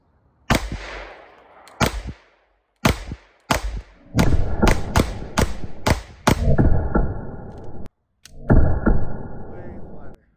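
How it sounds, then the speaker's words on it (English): Ten gunshots from a gun fitted with a Radian Ramjet, loud sharp reports fired close by, the first few spaced apart and the rest in a quicker string, with two brief gaps near the end. "10 shots, ready and ramjet on."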